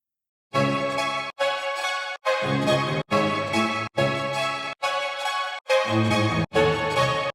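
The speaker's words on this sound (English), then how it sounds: "It's a drill melody and it sounds really cool" A sampled drill melody in eight short, evenly spaced bursts separated by crisp silences, each phrase dense and full, steady in loudness.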